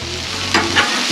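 Eggs sizzle steadily on a Blackstone griddle outdoors, a close, even frying hiss broken by two brief scraping bursts as a spatula pushes them aside.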